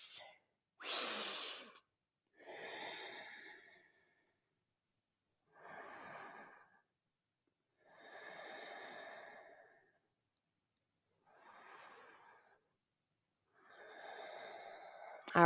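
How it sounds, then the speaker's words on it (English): Slow, deliberate yoga breaths close to the microphone, about five long inhales and exhales separated by quiet pauses, soft and airy with one sharper intake near the start. "Take 3 breaths."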